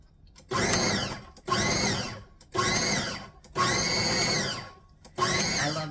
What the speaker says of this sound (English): we're gonna pulse this till it starts to come together